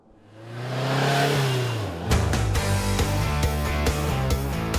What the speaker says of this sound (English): One wheel in the back, two wheels in the front. It is a fast power sport vehicle.